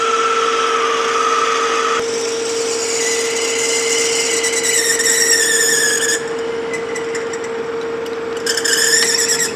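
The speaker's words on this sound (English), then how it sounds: "Go ahead and drill it all the way through." A power drill whines with a steady high-pitched squeal as a 5/8-inch-range bit cuts through a metal flywheel for a scale model engine, briefly easing off midway before biting in again.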